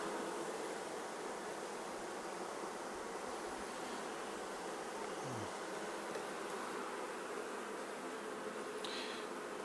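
Honeybees fan at the entrance of a nuc hive, making a constant, dense buzzing hum that holds evenly throughout, moderately loud and close, with no voices.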